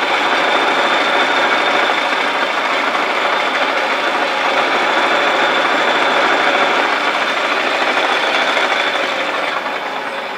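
A metal lathe runs steadily with its carriage traversing under power feed, a close, constant mechanical whir and hum with no pauses or talk.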